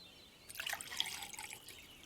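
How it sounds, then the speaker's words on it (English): Tea pours into a cup in a cartoon, a bright trickling splash that starts abruptly and runs for over a second with small drips, fairly quiet and heard alone. "Could you pour me some more tea"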